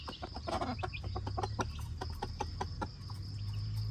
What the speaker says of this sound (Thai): เขาจะกุ๊กเรียกกันครับเป็นภาษาไก่ครับ เขาจะทำเสียง กุ๊กกุ๊กกุ๊กกุ๊กครับ